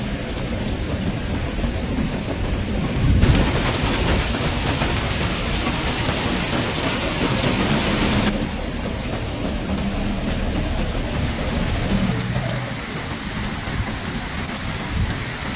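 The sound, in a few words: heavy rain during floods in Albania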